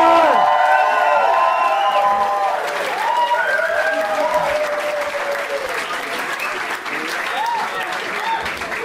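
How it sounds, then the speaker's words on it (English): Loud applause from a large comedy-show audience in Budapest, with cheering and whoops over the clapping, slowly easing off but continuing throughout. "Please give a big, big round of applause to Conrad Molden, everybody!"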